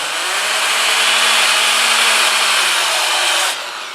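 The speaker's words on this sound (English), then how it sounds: "I'm going to sand that out. Go back to the 80 grit." A power sander with 80-grit abrasive works a wooden bowl, giving a loud, steady whirring grind that holds for several seconds and then drops off slightly as pressure eases.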